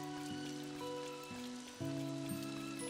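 Steady rain hiss in the video game Dor SoS: Friends of the Great Kingdom, an even wash of falling drops running beneath sustained melodic game music for the whole stretch.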